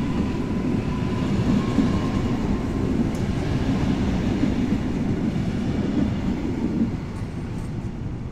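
An EN57AL electric multiple unit train pulls away from Warszawa Zachodnia station after dark with a loud, steady low rumble and a faint rolling wheel clatter, easing slightly near the end. No one speaks.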